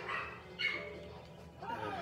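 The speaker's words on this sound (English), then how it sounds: "I'm really sorry if you hear the dogs." Dogs bark a few times at a distance, faint yips and woofs in a short stretch with low background noise and no talk.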